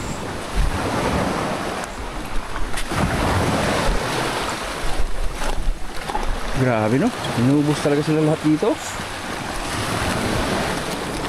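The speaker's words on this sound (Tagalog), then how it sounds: "Ang galit yung dagat ah." Rough sea surf crashing steadily along a coast beside a ruined mansion, with gusting wind buffeting the microphone and people talking over the roar throughout.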